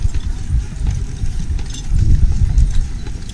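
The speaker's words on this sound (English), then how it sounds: "And everything is horse and carriage." Horse hooves clip-clop steadily as horses pull a carriage along a street on Mackinac Island, the rhythmic clatter close and loud over low background rumble.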